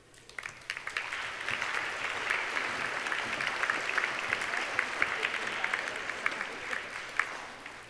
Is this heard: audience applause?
yes